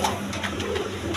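Australian Runt pigeons cooing on a farm, soft repeated coos close by over a steady low background hum, with no talking.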